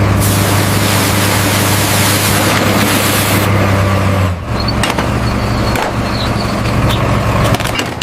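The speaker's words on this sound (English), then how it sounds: "Fire hose is active, watch the spray." A miniature fire hose sprays water at a tiny storm-damaged hospital repair site, a loud close hiss over a humming motor that drops in tone partway through and continues with small knocks.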